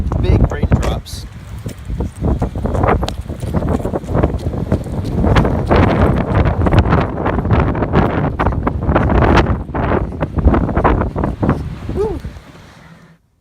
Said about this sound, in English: it's been super windy